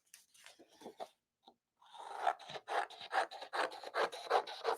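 Printed paper trimmed along its white edge, a few scattered soft scrapes followed by a steady run of rhythmic rasping cuts, close and fairly quiet, with no talking.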